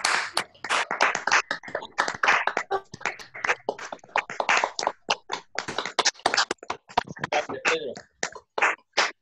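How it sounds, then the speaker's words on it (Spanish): A small gallery audience claps for the guest Pedro after a screening and conversation, irregular bursts of close hand claps that thin out and stop toward the end. "un aplauso para Pedro"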